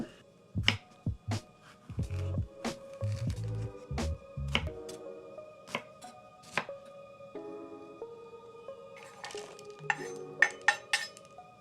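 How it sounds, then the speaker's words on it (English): A knife dices jalapenos on a cutting board for an omelette, giving a quick run of sharp, close taps and chops in uneven bursts, with lighter clinks and faint kitchen handling noises afterward. "I have a very special way that I like to cut my jalapenos."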